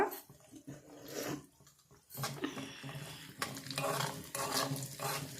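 Cardamom, cloves and kalonji seeds simmering in oil in a pan for homemade hair oil, a soft bubbling sizzle with stirring scrapes, fading and returning in uneven bursts, close and fairly quiet.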